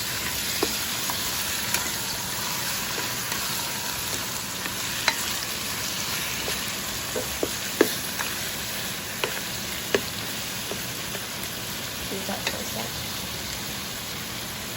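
Ingredients for a spicy chicken afritada stew sauté in a pan, giving a steady close sizzle broken by scattered utensil taps and stirring clicks, with no clear speech.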